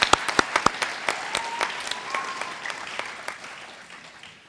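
Applause for a school district's Academic Hall of Honor and Athletic Hall of Fame inductees at a ceremony. It begins as sharp, separate claps and thins out gradually, fading lower toward the end.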